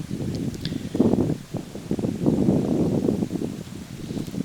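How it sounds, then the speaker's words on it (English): Wind gusts rush through woodland trees around a tree stand in Alabama, a broad rustling roar that swells and eases in waves, close and steady, with no talking. "Got real windy."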